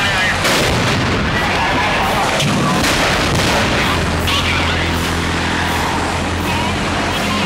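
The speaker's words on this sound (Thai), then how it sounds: "ประมาณ3นาทีรถคันนี้ก็ระเบิดเลยระเบิดไล่กันเลย5ลูก6ลูก" A truck burning after a crash with a trailer truck on a Thai roadside, exploding repeatedly in heavy, loud booms over a continuous roaring blaze, distant and reverberant, with crowd noise and talk underneath.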